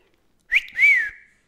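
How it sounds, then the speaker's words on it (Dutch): A person whistles two short notes, a brief rising chirp followed by a longer sliding tone, close and clear against near silence. "Ik kan niet fluiten nu."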